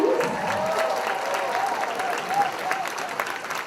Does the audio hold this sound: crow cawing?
no